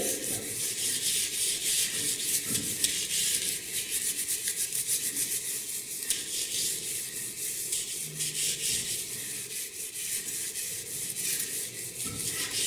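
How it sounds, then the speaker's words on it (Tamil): A stiff scrub brush works over stained bathroom tiles in a continuous, close, rasping scrub with a steady back-and-forth rhythm. No one speaks. "இந்த ஒரு ஸ்கொயர் மட்டும் நான் ஸ்க்ரப் பண்றேன் ஃபர்ஸ்ட்."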